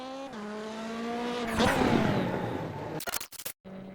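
Race cars at Daytona in the iRacing simulator roar with rising engine pitch, shifting through gears into a loud, dense burst as the field accelerates from the start, followed by sharp choppy bursts and a brief drop to near silence.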